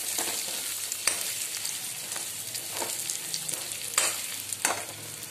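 Golden-brown fried onions sizzle in a pan, a constant crackling hiss broken by several sharp spatula scrapes and clinks as they are mixed, close up with no voices.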